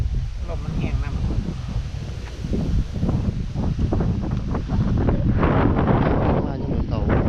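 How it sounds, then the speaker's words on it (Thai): Dry wind blowing steadily across an open microphone near water while crab traps are set, a continuous rough rushing that builds louder toward the end, with people talking over it. "ลมแห้งครับ"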